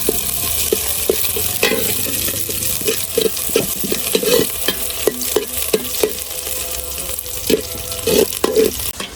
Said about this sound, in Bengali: পাতিলের মধ্যে তেল দিয়ে দিছি এখন গোটা গরম মশলা তেজপাতা পেঁয়াজ কুচি ধরো